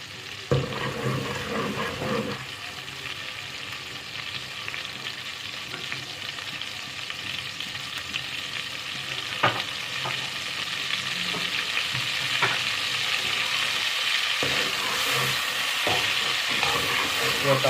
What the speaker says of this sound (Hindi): इसको थोड़ा सा हम भूनेंगे अच्छी तरह।